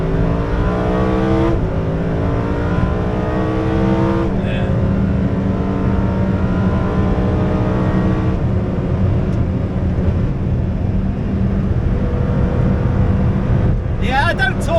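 A modified Lamborghini Huracan STO driven hard on the Nürburgring, loud in-car engine roar with rising harmonic revs climbing through gears, sudden shift drops, and steady road rumble throughout, sustained and close.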